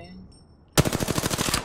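Sudden burst of rapid automatic gunfire in Apex Legends, a loud rattling stream of shots starting after a quiet moment and continuing to the end.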